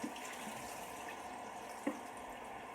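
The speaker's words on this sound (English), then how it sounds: "filling up the tank under the faucet and then completely disposing of it again down the drain 2 times" Tap water runs steadily from a faucet into a film developing tank in a sink, a soft continuous rushing with one small knock partway through.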